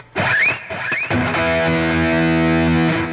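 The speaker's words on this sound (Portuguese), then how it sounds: "É uma distorção como qualquer outra." A Kramer Striker 424 electric guitar on the bridge pickup plays a heavily distorted tone: a couple of quick bends and picked notes, then a loud sustained chord ringing out alone.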